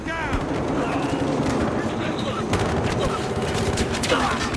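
Video game gunfire from Battlefield Hardline in a heist match, dense and continuous with overlapping shots and bursts mixed under voices shouting throughout.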